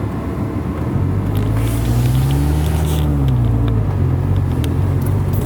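Manual-transmission car pulling away in first gear as the clutch is feathered, a loud steady low engine drone that rises slightly in pitch mid-clip, close inside the cabin with no talk.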